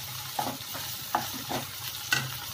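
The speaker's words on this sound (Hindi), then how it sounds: "इसको अच्छी तरह से मिक्स करेंगे।" A spoon stirs green chilies and ginger-garlic paste in a pan for paneer bhindi masala, giving several scraping strokes over a soft, steady frying sizzle, close and clear with no talk.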